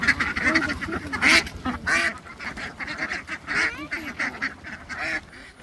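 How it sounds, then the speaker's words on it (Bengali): Local domestic ducks quack loudly and repeatedly while being carried in a vehicle under a net, their harsh overlapping calls close and busy throughout. "এই যে হচ্ছে গাড়িতে হাঁস ওরা যাচ্ছে, নেট দিয়ে আটকাইছে,"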